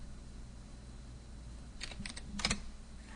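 A serial number being typed on a computer keyboard, a faint low hum and then a short cluster of close, crisp key clicks about two-thirds of the way through, with no talking.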